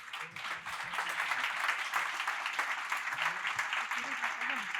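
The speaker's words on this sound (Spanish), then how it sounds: "Un fuerte aplauso para ellos." Sustained applause from a crowd, steady and dense throughout, with faint voices mixed in underneath.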